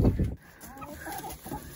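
Chickens and a rooster settling into a new homemade coop, with one loud close cluck followed by softer, scattered clucking and murmuring from the flock.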